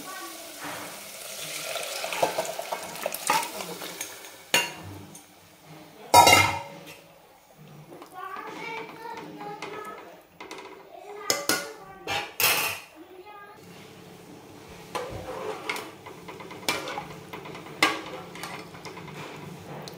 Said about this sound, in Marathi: ह्या वेळेस आपण आता हे शिजवून घेतलेलं जे चिकन आहे ते टाकून घेऊ